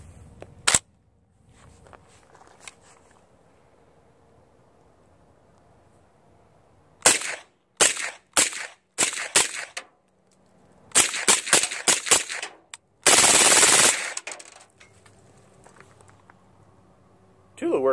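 Suppressed PTR 9CT 9mm rifle firing Tula ammunition: clusters of sharp, loud shots in quick succession, the last a sustained burst, with quiet gaps and faint background noise between strings.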